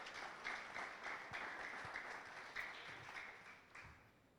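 A church congregation applauds with a soft, distant patter of many hands clapping, sustained and fairly faint, with a few louder claps standing out.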